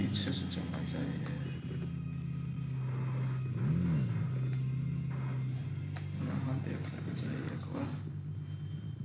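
A steady PUBG video game vehicle engine drone with a brief rising rev in the middle, continuous and fairly close, with talk underneath.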